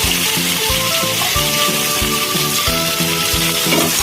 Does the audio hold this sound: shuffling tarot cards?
no